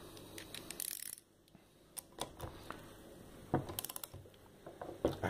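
A ratchet wrench tightening bolts on a refrigerator compressor during a repair, giving bursts of quick, close mechanical clicking with short pauses between strokes and some metallic knocks.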